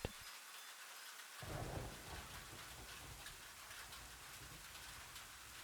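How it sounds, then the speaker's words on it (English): Steady rain hisses through the whole stretch while a soft, distant roll of thunder swells low and rumbling near the start, then fades back under the even downpour. "The distant roll of thunder is soft."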